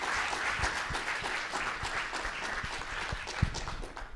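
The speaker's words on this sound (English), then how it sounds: "Let's give him a round of applause." An audience claps steadily, a dense patter of many hands at moderate volume that thins slightly toward the end.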